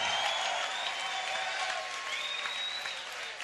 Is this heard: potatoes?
no